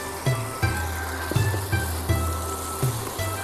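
Chinese-style gravy noodles being stirred in a hot pan with pepper, salt and a little sugar, a loud close sizzle broken by repeated spatula scrapes and knocks at an uneven rhythm, no talking.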